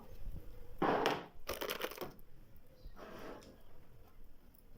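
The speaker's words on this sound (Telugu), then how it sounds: "ఐస్ ముక్కలు తీసుకుంటున్నాను" Ice cubes for buttermilk clatter and crunch in a few short bursts, close and fairly loud, with quieter rustling between them.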